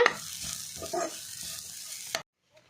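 Chopped onion fries in hot oil for a chicken curry, with a close, steady sizzle and stirring scrapes for about two seconds before it cuts to near silence.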